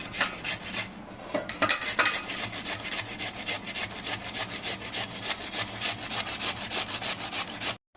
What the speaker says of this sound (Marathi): बटाट्याची साल काढून घेतलेली आहे आता किसून घेते